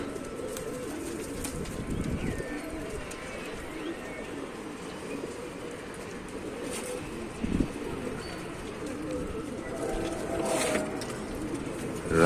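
Pigeons in a loft coo and murmur continuously at close range while the birds are aired out, with occasional chirps and a brief flutter of wings over a low, steady background.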